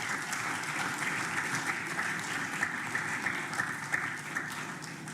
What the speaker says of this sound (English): a round of applause to all the contestants who made it to the top 6.